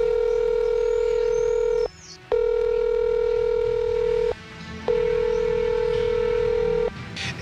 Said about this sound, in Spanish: Lo que vamos a hacer es contactarnos con él vía teléfono.